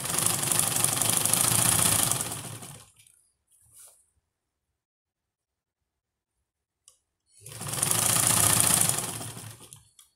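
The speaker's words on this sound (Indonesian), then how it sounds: "Ini kita jahit 2 kali ya teman-teman" A sewing machine stitches elastic onto the edge of a bed sheet, two loud close bursts of rapid mechanical whirring and clicking separated by several seconds of near silence.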